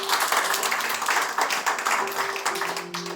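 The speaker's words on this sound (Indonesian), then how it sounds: "Berikan tepuk tangan dulu buat Tuhan." A church congregation claps during a sermon, a brisk rhythmic round of applause at close range with a sustained organ or keyboard tone holding underneath.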